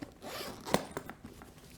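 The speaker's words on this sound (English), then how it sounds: "If you zip down here," A zipper on the front storage pocket of a pool cue case is pulled open in one quick, close rasp, with a few small fabric rustles and clicks after it.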